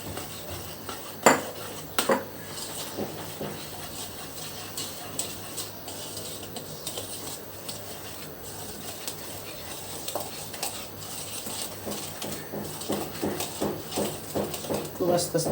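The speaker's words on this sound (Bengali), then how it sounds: "আস্তে আস্তে মিক্স করে নিব।" Dry cake ingredients with a pinch of salt are slowly mixed in a bowl for an orange cake, making light, repeated scraping and tapping clinks of utensil against bowl under a speaking voice.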